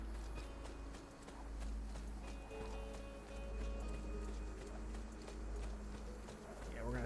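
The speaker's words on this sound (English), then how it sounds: "Yeah, we're gonna steal a horse." Horse hooves clip-clop steadily at a walking pace in the Assassin's Creed 2 video game, heard over a low constant rumble and faint ambient background.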